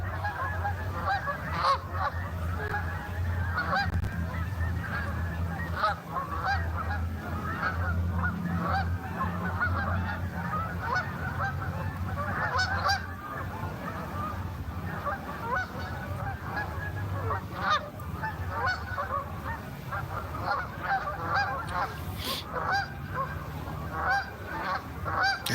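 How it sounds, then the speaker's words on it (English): Flock of Canada geese honking outdoors, a continuous chorus of overlapping honks and calls at moderate distance, steady throughout with no talking. "Yeah, those geese are noisy"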